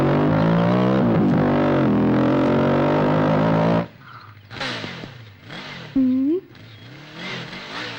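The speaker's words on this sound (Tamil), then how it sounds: "வண்டி சவுண்ட் கொஞ்சம் கம்மி பண்ணுங்களேன்." A loud vehicle engine roars steadily with rising and falling revs, then cuts off abruptly. Quieter movement sounds and voices follow, including one short sharp tone.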